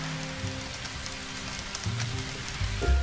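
Rain in the Red Dead Redemption 2 video game patters steadily on a surface with a soft, dense hiss, and a low rumble swells near the end.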